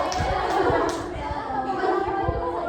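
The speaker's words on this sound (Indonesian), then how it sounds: "tepuk tangan buat Lala" Pupils in a classroom clap for a classmate, a burst of near, uneven hand claps and taps. Children's voices mingle with the claps.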